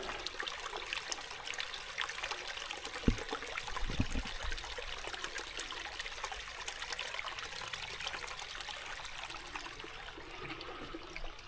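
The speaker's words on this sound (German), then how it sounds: "So, man hört es ja ein bisschen plätschern." Gentle water trickling and splashing along a stream on a forest hiking trail in the Hochtaunus hills, a steady soft babble with a couple of brief louder splashes near the start, no voices.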